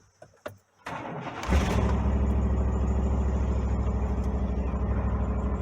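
A car engine starts after a few clicks and knocks, then settles into a steady, loud, close-up running drone as the vehicle pulls away and drives on.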